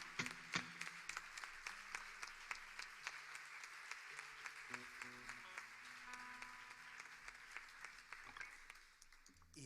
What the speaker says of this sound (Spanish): Un aplauso muy fuerte para ellos de Pronorte